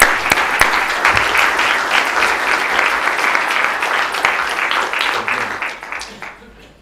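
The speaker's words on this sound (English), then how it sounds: "let's hear it for Donna" An audience at a talk on the history of visualization breaks into loud, sustained applause after a speaker is introduced. Dense clapping fills the room for several seconds, then slowly fades at the end.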